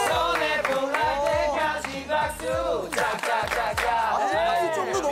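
A large crowd of fans at a music show cheers and shouts loudly, with rising whoops and screams layered densely over one another and some scattered clapping, continuous throughout.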